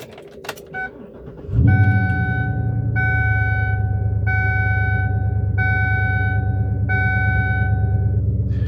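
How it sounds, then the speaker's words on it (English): A 2012 Chevrolet Silverado 1500 LT crew cab pickup with about 150,000 miles cranks and catches, then settles into a steady loud idle, while a repeating chime dings over the running motor. "I'm gonna go ahead and crank it up so that we can hear it run"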